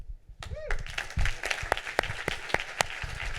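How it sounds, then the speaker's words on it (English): Audience applause at a startup fundraising talk, sparse claps building into a patter of hands with a few sharp louder claps standing out, fairly quiet and mixed with a brief voice near the start. "Give her another round of applause."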